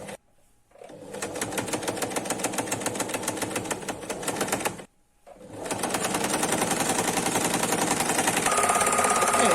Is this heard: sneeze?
no